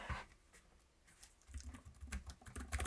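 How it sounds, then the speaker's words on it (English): Typing on the keyboard of an Asus ProArt StudioBook Pro 16 OLED laptop gives soft, quiet, rapid clicks and taps, close up and alone, growing busier after a brief pause. "Let's check out the keyboard real quick, see how it types."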